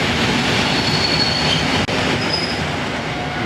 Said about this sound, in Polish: Wjeżdża już moja skm którą pojadę do przystanku Gdańsk Politechnika.